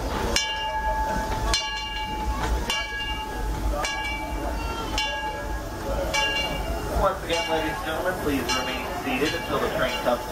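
Disneyland Railroad steam train with engine Ernest S. Marsh No. 4, rolling with rhythmic clanks and metallic clinks of the cars, a steady rumble throughout and a faint ringing tone, with voices in the background.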